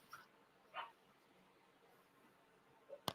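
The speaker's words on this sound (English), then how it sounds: "There goes the dog." A dog barks a few times indoors, heard as brief, distant yaps and a sharp bark at the end against a quiet room with low background noise.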